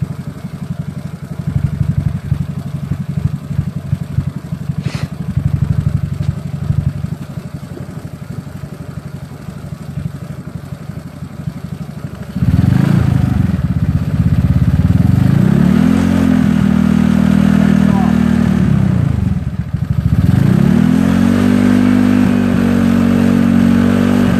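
Znen ZN150T-9 GY6 150cc scooter engine idles with a rattly clatter, then is revved hard twice, its pitch rising and falling in loud, close swells.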